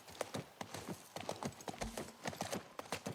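Horse hooves clip-clopping in the video game The Last of Us Part 1, a steady walking rhythm of quiet, fairly close hoof falls with an occasional low rumble.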